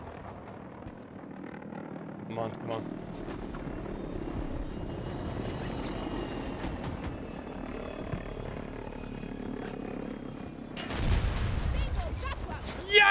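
A jet aircraft engine in the shooter Battlefield 2042 roars steadily and surges louder near the end, with a voice speaking briefly over it.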